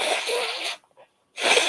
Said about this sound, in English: I'm going to blow my nose just a second.